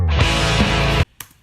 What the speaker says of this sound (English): You hear that little bass boom at the beginning.